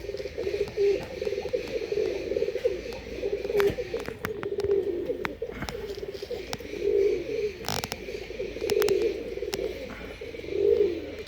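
Breeding pigeons coo in low rolling phrases that repeat steadily and overlap, close and fairly loud, with occasional sharp clicks and knocks but no talking.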